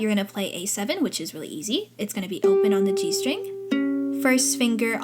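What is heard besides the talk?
None of the usual background noises is heard.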